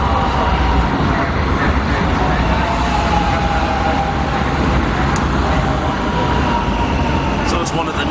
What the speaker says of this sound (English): So it's one of the newer Milan metro trains I got this morning to take us to Loreto.